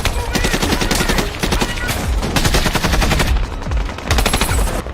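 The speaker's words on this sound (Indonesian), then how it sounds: "Dan baku tembak pun tak dapat dihindarkan lagi." Rapid bursts of automatic and rifle gunfire crackle almost without pause in a war-film firefight between snipers and special forces, loud and dense, with a few brief lulls between volleys.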